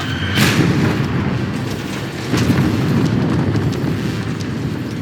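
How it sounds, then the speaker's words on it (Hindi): 500-pound bombs fall from the bomb bay doors of a B-17 bomber, heard as a heavy, continuous low rumble that stays loud throughout, with a brief brighter burst near the start. "B-17 के विशाल बॉम्बे दरवाजों से 500 पाउंडर बमों की धार गिरती है जो जमीन की ओर बढ़ते हैं"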